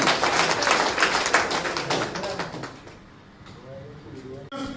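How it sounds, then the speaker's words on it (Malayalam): Applause from an audience at a marketing training session, a loud dense burst of clapping that fades out over a few seconds, leaving quiet room tone and a brief voice at the end. "നല്ല ക്ലാപ്പ് കൊടുക്കും"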